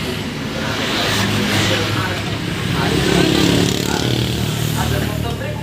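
A motorcycle fitted with an original RPL Purbalingga aftermarket exhaust runs with a loud, dense, continuous engine drone that swells slightly midway.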